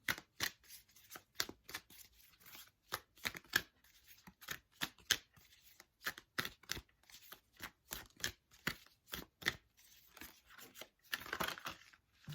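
Tarot cards are shuffled by hand, close and fairly quiet, with a long run of crisp, repeated riffling slaps and brief pauses between bursts. A card draw follows, and no one talks.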